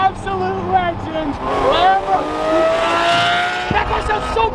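A Lamborghini LP 640's 6.5-liter V12 revs on a snowy day in Utah, its loud, close engine note sweeping up and down in pitch across several seconds while people talk in the background.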